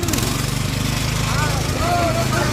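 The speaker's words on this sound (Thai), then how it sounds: "มันต้องเร่งเครื่อง" Car engine revving in second gear, a loud throbbing, rumbling drone with rising and falling pitch, heard up close under excited voices.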